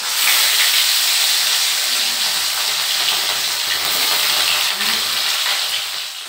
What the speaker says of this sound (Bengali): মাছগুলোকে ভেজে নেবো।